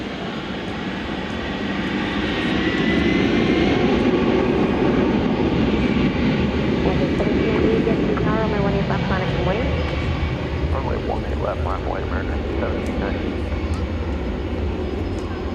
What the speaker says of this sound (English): runway 18 left up for takeoff.